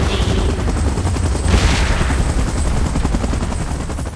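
A video game helicopter drones loudly and steadily throughout, its rotor chop mixed with bursts of gunfire and explosive game effects.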